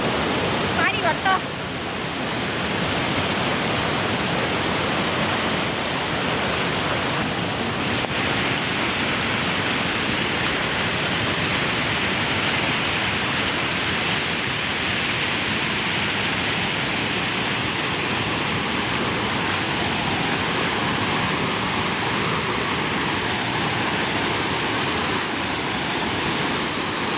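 The Mailung waterfall pours in a loud, steady roar of rushing water, close and unbroken for the whole stretch.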